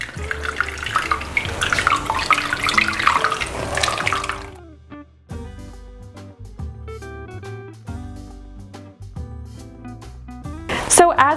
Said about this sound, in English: we're gonna give it a good squeeze, and we're gonna get out as much milk as we can